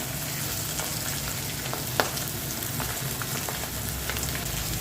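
Fish frying in a pan on a gas stove in a home kitchen, a dense continuous sizzle and spatter with small pops, close up and steady, no talking.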